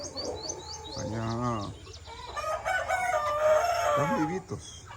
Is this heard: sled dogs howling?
no